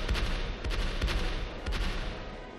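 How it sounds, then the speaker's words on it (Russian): Celebratory fireworks salute for Victory Day heard from outside the window of an old apartment, a series of dull booming bursts at irregular intervals over a steady background rumble, fairly distant and muffled. "Этот скромный салют за окнами старой квартиры в честь вас"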